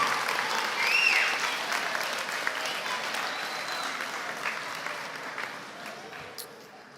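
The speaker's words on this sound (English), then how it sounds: "Please give your family a round of applause" Graduates at a college commencement applaud their families in a large hall, the broad clapping starting full and gradually thinning out toward the end, with a brief tonal squeak near the start.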